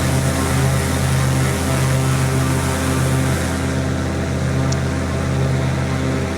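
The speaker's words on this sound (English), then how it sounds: "It's a lovely aeroplane" An ultralight aeroplane engine in flight over the UK drones steadily and loudly throughout, a constant close, unbroken hum with no talk.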